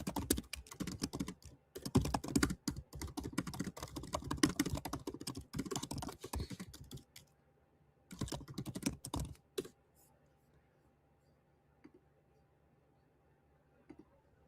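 Fast, busy typing on a computer keyboard, a dense run of close clicks and key taps that stops, picks up again in a short second burst, and then gives way to quiet room tone with only a few faint stray clicks.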